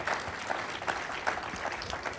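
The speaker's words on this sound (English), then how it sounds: "clap for Roger, please." An audience claps steadily but faintly at an Elvis Week event.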